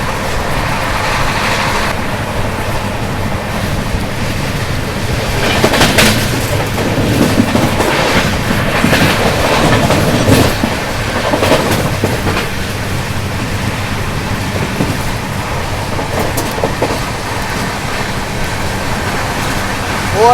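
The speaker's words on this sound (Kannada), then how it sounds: "ಈಗ ನಾವು ಓವರ್ಟೇಕ್ ಮಾಡ್ತೀವಿ ಸೌರಾಷ್ಟ್ರ ಎಕ್ಸ್ಪ್ರೆಸ್ಸನ್ನು" Steady rumble and rush of a packed Humsafar Express train running flat out at 130 km/h while overtaking the Saurashtra Express, a continuous broadband roar with swelling gusts midway and no voices.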